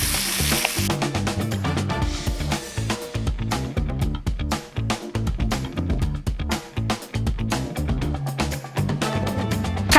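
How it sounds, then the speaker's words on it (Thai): Tomatoes grill at a campsite with a steady sizzling crackle, partly buried under loud rhythmic background music that runs throughout. "ตอนนี้ก็คือเราย่างมะเขือเทศอยู่ใช่ไหมคะ"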